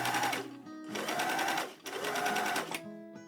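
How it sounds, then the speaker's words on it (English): An overlocker serges the raw edges of costume pattern pieces, running in two long steady bursts with a brief stop between them, loud and close with no voices. "I could begin overlocking around the raw edges of all my pattern pieces"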